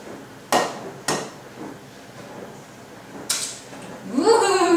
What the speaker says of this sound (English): So do you want to crack the egg in?